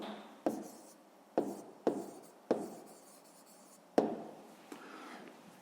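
Pen strokes scratching across notebook paper as an answer is written down, coming in several short bursts separated by brief pauses, close and fairly quiet.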